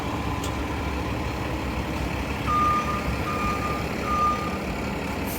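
A city bus sounds its reversing beeps in a street, the steady tones running over a low idling diesel engine and traffic hum at moderate distance.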